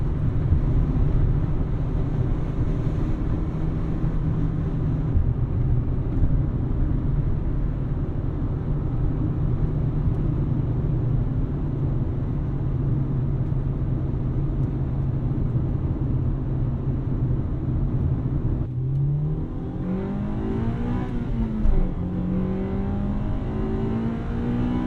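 Inside a 2000 Honda Civic Si EM1 on the move, a steady engine drone and road rumble throughout, rising in pitch near the end as the engine revs up through acceleration.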